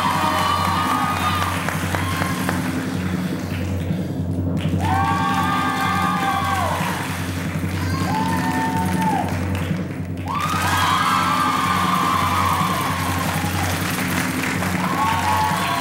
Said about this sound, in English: But I'm going to ask our studio audience to applaud, please.